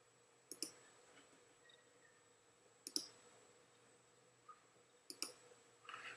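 A computer mouse clicks in short crisp bursts, usually doubled, spaced a few seconds apart, during image editing in GIMP. The clicks are quiet and close over faint background hiss, with no talking.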